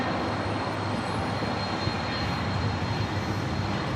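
An MD-11 airliner's jet engines at LAX produce a steady, broad roar that holds at an even level for the whole stretch, with no voices over it.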